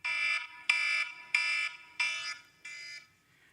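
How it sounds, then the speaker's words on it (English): A loud, harsh electronic alarm rings in five steady bursts of about half a second each, separated by short gaps, piercing and close, with nothing else heard. "So I need an alarm that sounds more like this."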